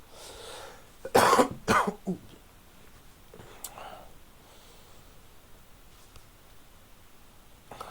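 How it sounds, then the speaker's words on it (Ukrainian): A few harsh coughs in quick succession, close to the microphone, followed by quieter throat noises and faint rustling in an otherwise quiet room. "болячка в процесі триває, так що вибачайте, буду, буду кашляти"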